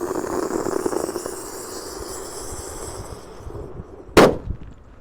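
A red lotus firecracker set in a hole in the ground bursts with one sharp, loud bang near the end, standing out from a steady outdoor hiss that precedes it.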